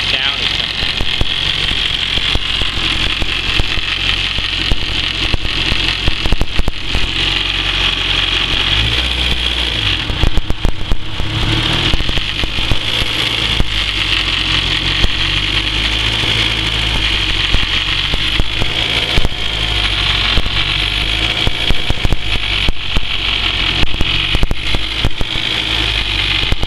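A 400hp race Honda Civic running at first start-up, a loud, steady, close engine idle with a rough, vibrating edge, while someone talks over it throughout.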